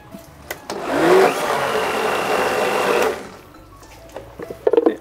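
A blender whirs loudly for about two seconds, spinning basil with olive oil into Genovese pesto, then winds down, with faint clattering before and after.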